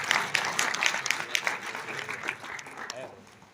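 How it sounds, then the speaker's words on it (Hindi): Audience applause at a Hindi speech event welcoming new medical students, a burst of clapping that gradually fades out. "समझ में आया तो ताली हो जाएगी"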